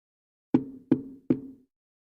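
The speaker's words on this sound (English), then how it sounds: "Oh, someone's at the door." Three sharp knocks on a door, evenly spaced about half a second apart, close and clear against an otherwise silent room.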